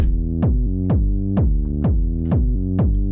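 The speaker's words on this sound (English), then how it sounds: "This contains the kick and the bass, and together it sounds like this." A deep electronic kick thumps steadily about twice per second, locked with a sustained, buzzy synth bass line that swells between hits, loud and with no voices.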